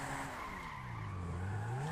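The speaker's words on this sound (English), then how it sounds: "And you can do drift mode, so left shift to drift." A car drifting in GTA 5 gives off a sustained tire screech that slides downward in pitch over a steady engine drone, loud and continuous without speech.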